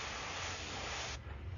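Airbrush spraying paint along the bottom edge of a stencil held flat, a steady close hiss that cuts off sharply near the end, leaving low background noise.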